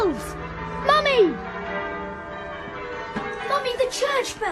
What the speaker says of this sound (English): Mummy, the church bells. Can you hear them?